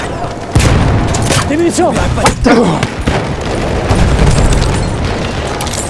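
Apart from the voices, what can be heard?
grenade thrown and exploding in Battlefield 1 video game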